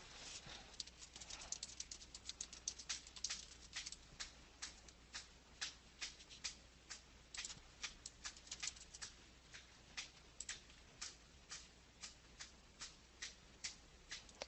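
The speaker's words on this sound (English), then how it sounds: "that clicking in the background, my son's playing Guitar Hero and you hear the little strumming going doot doot doot" A Guitar Hero controller's strum bar clicks away in the background of a room, a steady series of faint, sharp plastic ticks repeating at an even rhythm for the whole stretch.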